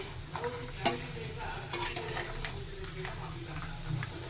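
Curry leaves and dried red chillies fry in hot oil for a mixed vegetable pachadi, a soft steady sizzle with light clinks and stirring scrapes, faint and close.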